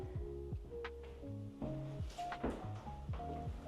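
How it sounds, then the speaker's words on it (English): A bathroom door in a Grade II Welsh mansion swings shut with a few soft wooden knocks and thuds, set against steady background music. "Just close the door."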